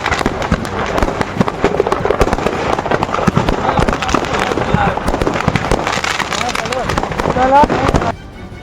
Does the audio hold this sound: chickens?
no